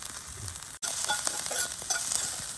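Onion, green chili, garlic and curry leaves sizzle steadily in a hot pan, a continuous close frying hiss with small crackles and one brief dropout near the start.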